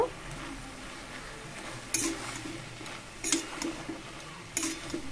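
A spoon stirring chola greens cooked with rice flour and whole garlic in a pan, giving a few short scraping clanks over a soft background sizzle.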